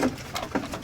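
Racing pigeons eating after being fed, a brief soft patter of pecking and shuffling with faint cooing, close and quiet.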